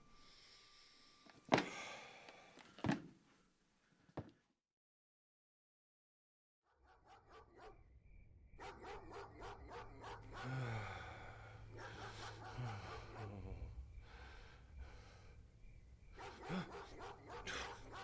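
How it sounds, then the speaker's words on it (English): A dog barks a few times in sharp, loud bursts near the start, then falls silent before a dramatic scene with layered sound effects and background ambience, as in an audio drama. "Damn dog."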